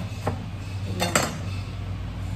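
A kitchen knife slicing eggplant for a coconut-milk vegetable dish gives a few crisp clicks against a cutting board, one near the start and a quick pair near the middle, over a steady low hum.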